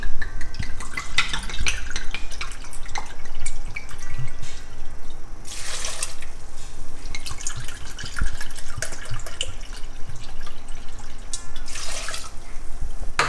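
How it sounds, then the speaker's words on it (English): Pinot Grigio pours into a pot for homemade Dijon mustard, a steady close splashing trickle with a couple of brighter gushes. "Now we're going to add 2 cups of our Pinot Grigio."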